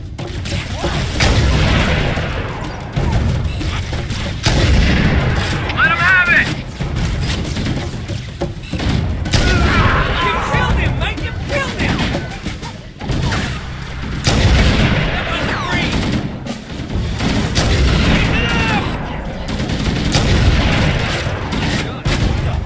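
Covenant stationary guns fire in Halo: Combat Evolved Anniversary's Truth and Reconciliation mission, a dense, continuous barrage of booming shots and blasts that stays loud throughout with no voices.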